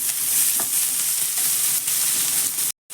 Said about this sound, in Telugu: పచ్చిమిరకాయలు వేగిన తర్వాత ఇప్పుడు దొండకాయలు వేసుకోవాలి.